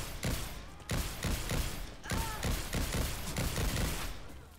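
Rapid video game gunfire in Revelations 2012 on PC, a shotgun among the weapons, firing repeated loud blasts in an uneven, steady volley with mechanical clatter, no talking.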